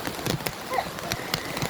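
Rain pouring during a typhoon with floodwater rising, a dense hiss of falling water with scattered splashes and patters close by, heard alone without talk.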